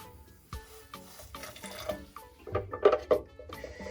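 Hot water is poured into a jar of cloves in short splashing bursts, gurgling louder toward the end, close by in a quiet room.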